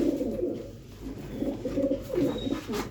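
Pigeons coo in a group at a pigeon keeper's loft in Punjab, soft rolling throaty calls repeating one after another, close and clear with no talking.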